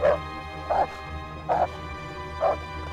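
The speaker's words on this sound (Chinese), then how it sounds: "狗妈妈狂叫一声" Four loud barks from a mother dog in an animated cartoon, spaced about a second apart, standing out sharply over a low background hum.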